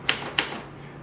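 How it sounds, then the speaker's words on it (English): An antique 1980s-style typewriter gives two crisp keystroke clacks about a third of a second apart, close and fairly quiet against a soft room background. "We've got an antique-ish typewriter"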